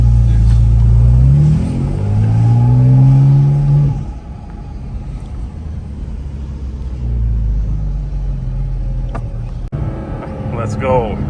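A Porsche GT4RS accelerates on the Nurburgring track, its engine rising in a loud revving sweep heard from the passenger seat, then settling into a steadier drone, with people talking over the engine noise.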